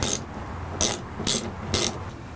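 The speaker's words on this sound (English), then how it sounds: "we're going to start removing these T30 Torx bolts" A ratchet socket fitted with a T30 Torx bit loosens bolts on a 2013 Toyota Tacoma tailgate, giving three short, close, crisp clicking bursts at a steady pace with quiet gaps between them.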